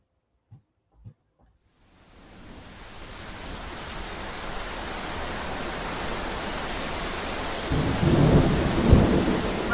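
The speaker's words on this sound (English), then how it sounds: "Raining." A thunderstorm builds from silence into steady, loud rain with a deep rumble of thunder swelling near the end, after two brief knocks at the start.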